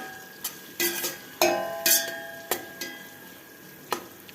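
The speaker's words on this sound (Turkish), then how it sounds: "Birazcık da yağ koydum. Şöyle hafiften kavrulsun." Chopped yellow, green and red peppers are stirred in a little oil in a pan, with irregular scraping and clinking of the utensil against the pan over a soft sizzle, the bursts separated by quieter gaps.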